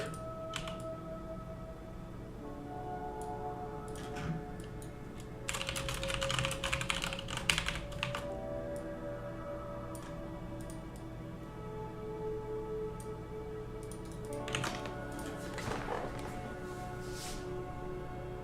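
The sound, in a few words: typing on a computer keyboard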